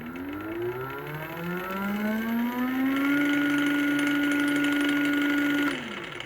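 An electric motorcycle motor driven by a VESC controller spins up with a rising whine that climbs steadily, holds a loud, steady high tone for a few seconds, then cuts off abruptly.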